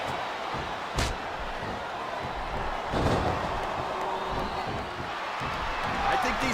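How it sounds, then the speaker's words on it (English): Arena crowd noise in the wrestling game WWE 2K24: a steady broadband roar of the audience with a couple of sharp slam-like thuds on top. "Superstars are getting some feedback from the crowd, JR."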